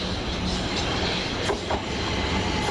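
A Southern passenger train pulls into platform 5 at East Croydon station, a steady rolling rumble with faint wheel squeal and clatter, close and continuous.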